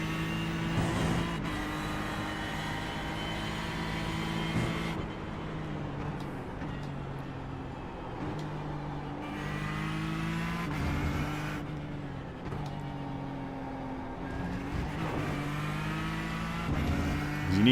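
A race car engine drones steadily in iRacing during a gentle outlap, rising and falling through gear changes and revs with a continuous close motor note and no talking.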